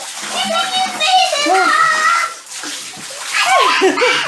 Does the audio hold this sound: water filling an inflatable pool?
yes